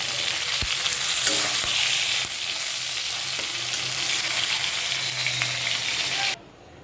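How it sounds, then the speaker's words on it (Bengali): Fish bones fry in oil in a pan for a ghonto with ash gourd, producing a steady close sizzle with occasional soft stirring knocks that cuts off abruptly near the end. "সেই ঘন্টের জন্য মাছের কাটাগুলো ভালো করে ভেজে নিচ্ছি"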